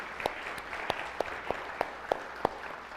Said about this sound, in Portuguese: Dê um aplauso à palavra de Deus